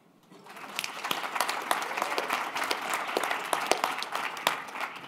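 Applause from an audience at a talk on psychedelics, rising quickly from near silence into a sustained, moderately loud patter of clapping that holds until the end.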